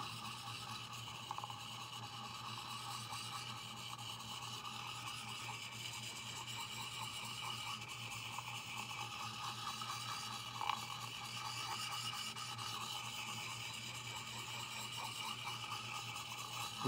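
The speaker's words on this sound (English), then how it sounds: "now I'm on the fine grit." A gouge chisel is rocked and rubbed against a fine grit sharpening stone, producing a faint, steady scraping hiss with soft repeated strokes and no talking.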